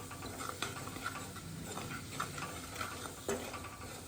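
A garlic rice mixture is stirred in a pan, with faint, close scraping and light ticking clicks of the spoon over a soft, quiet sizzle.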